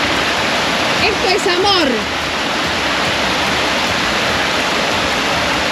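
A small mountain waterfall near El Chaltén in Patagonia pours in a loud, steady rushing wash throughout, while a voice speaks briefly over it early on.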